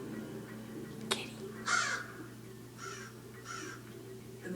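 A distant crow gives a few harsh caws, spaced apart, over a steady low background hum with a brief click early on.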